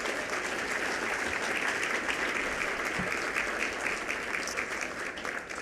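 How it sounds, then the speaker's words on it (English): Sustained, dense applause from a large audience at an annual fall luncheon, steady and loud for the whole stretch with no talk over it. "Let's all give him a loud round of applause so he can hear us up the block."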